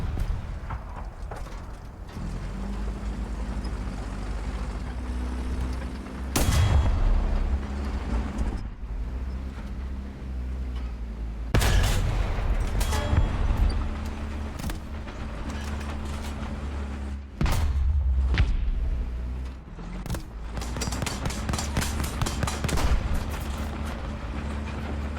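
Tank battle in War Thunder: heavy cannon fire arrives from the front in several sharp, booming blasts spaced seconds apart, over a constant low engine rumble, with no talking.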